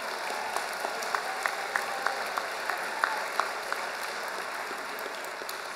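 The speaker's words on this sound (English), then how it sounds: "Give yourself a round of applause." Students at a McDaniel College convocation give a steady round of applause, dense clapping filling a large hall with a few sharper individual claps standing out, moderately loud and without talk.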